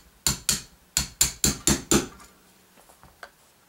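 Metal hammer taps driving a pin out of a 1911 pistol during disassembly: six sharp, close strikes in quick uneven rhythm, then faint small clicks and handling sounds.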